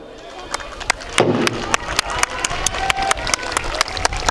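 Audience clapping at a school scout display, with a burst of crowd noise early on and then sharp, regularly spaced claps or stamps in a steady beat over a background hum.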